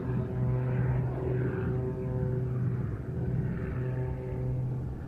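Propeller-driven aerobatic aircraft snap rolling upward and stall turning at an air show, a continuous droning engine rumble with a wavering pitch that swells and eases as it climbs, no voices over it.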